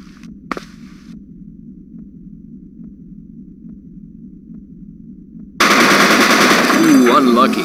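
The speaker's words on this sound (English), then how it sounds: "Let's try out a submachine gun." Submachine gun firing in the video game Die Hard: Vendetta, a loud sustained burst that starts abruptly after quiet background ambience and a brief click, running for about two seconds until the end.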